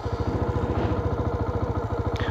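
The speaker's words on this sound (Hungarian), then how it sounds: "azt hiszem, hogy kicsit hallani azért a motort" A small motorcycle engine runs nearby with a fast, even putter and rhythmic pulsing, steady and fairly loud throughout.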